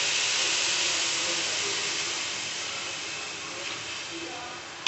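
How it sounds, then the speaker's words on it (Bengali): Water poured into a pan of fried rice for pulao makes a loud, steady steam hiss that fades slightly over several seconds, with a small clatter at the very end. "তো আমি এই মুহূর্তে পানিটা দিয়ে দিব।"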